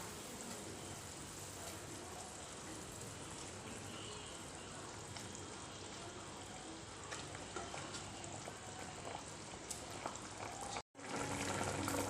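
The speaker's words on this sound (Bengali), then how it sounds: "দেখুন ঝোলটা টকবক করে ফুটে উঠেছে।" Pabda fish curry gravy made with cumin paste bubbles and sizzles continuously in a pan, a steady, soft, crackling wash of sound throughout, with a brief break near the end.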